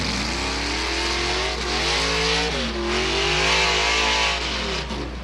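Loud, close roar of a pulling truck's 454 cubic inch Chevy engine revving hard and steadily at a truck and tractor pull, with the pitch rising and falling as the throttle works.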